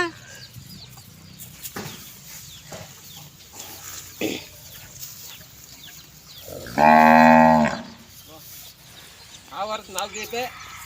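A loud, close buffalo moo lasts about a second, with scattered voices and farmyard noise before and after.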